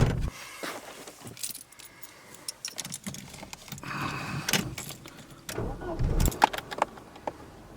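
A Mercedes W124 is started and driven: keys jangle and an engine turns over and runs, with door or window clunks and a rising road-car rumble through the later part.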